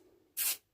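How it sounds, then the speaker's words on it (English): A single short, close hiss of WD-40 aerosol sprayed onto computer parts, lasting about a quarter second against a quiet background. "Right, so squirt that with WD-40."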